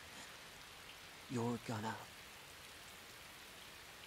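Steady rain falls as a continuous soft hiss in a scene from the video game Crisis Core Final Fantasy VII Reunion, faint and even throughout, with a brief spoken phrase over it.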